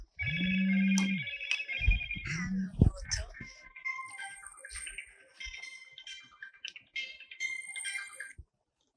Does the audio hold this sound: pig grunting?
no